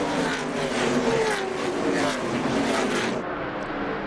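Race cars at the 2002 Busch North Little Trees 150 brake hard and downshift into turn 1 of a one-groove racetrack, a loud roar of engines dropping gears as cars sweep past, fading out near the end.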